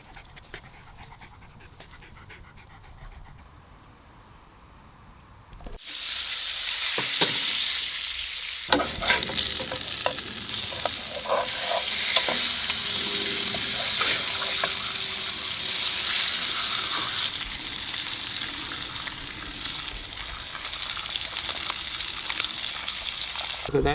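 Coated trout frying in butter in a pan gives a loud, steady sizzle that starts abruptly partway through, with occasional stirring clatter and a dog panting nearby.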